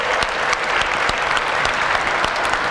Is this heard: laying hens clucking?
no